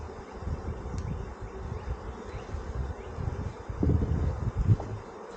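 Honey bees buzz around a homestead hive in a continuous, close droning hum mixed with light wind rustle, growing louder toward the end.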